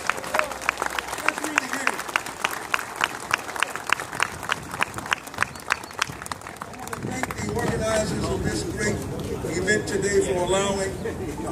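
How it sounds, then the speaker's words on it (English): Clapping for a drill team at an ILWU Local 10 Bloody Thursday event rises after a run of evenly spaced sharp claps, swelling into a broad round of applause from a crowd. "please give the drill team another round of applause"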